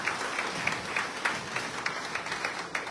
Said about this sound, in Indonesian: Tepuk tangan buat laporan.